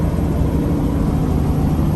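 A Peterbilt dump truck engine drones loudly and continuously while downshifting into 16th gear, a deep low rumble filling the cab without distinct shifts or pauses.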